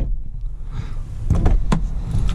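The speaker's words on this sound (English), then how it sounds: "Listen to the way the door shuts." Door of a 2000 Toyota Land Cruiser swung shut, heard close up as a couple of solid, low thuds with some rattle, set against quiet vehicle surroundings.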